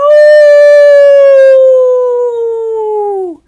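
A human voice imitates a wolf howling at the moon with one long, loud, steady tone that slowly drops in pitch and trails off after about three seconds.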